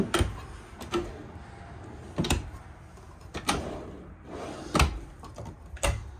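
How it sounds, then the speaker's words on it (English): Drawers in a 2024 Cruiser RV Shadow Cruiser 225RBS travel trailer slide open and shut, giving several sharp knocks and bumps spaced about a second apart with rattly sliding between, close and moderately loud, with no talking. "Drawers."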